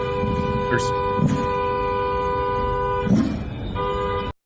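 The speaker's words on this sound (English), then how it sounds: "she's honking her horn through all of this" A car horn honks repeatedly in the street during an ICE operation and protest, several short blasts over steady traffic and crowd noise, with voices underneath.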